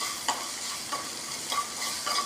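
Rice upma sautés in a pan after asafoetida has gone in, a steady soft sizzle broken by four evenly spaced scrapes of a stirring spoon, close and with no voices.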